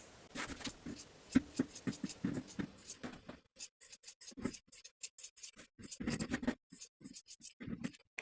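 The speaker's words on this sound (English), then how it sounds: "Then we'll trim our seam allowance." Scissors snip and scrape through woven fabric as a seam allowance is trimmed, a quick run of close, crisp cuts followed by spaced single snips.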